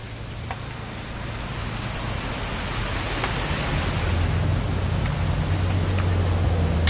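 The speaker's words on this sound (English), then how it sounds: "It's gonna rain the whole weekend, isn't it?" Rain falls steadily in the video game What Remains of Edith Finch, a dense, even hiss that swells slightly over a few seconds with a low hum beneath, no voices.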